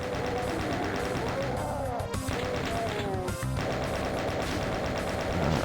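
Shotgun fire at Kakos enemies in the D!Zone'd video game, loud dense repeated blasts over continuous game audio with a voice talking throughout.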